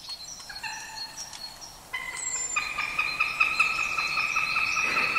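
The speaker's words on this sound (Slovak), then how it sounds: "Sliepočka hlucháňa." A western capercaillie hen calls at a forest lek site after sunrise in Poľana, giving repeated harmonic clucking notes, fairly close, over a soft background hum of the woods.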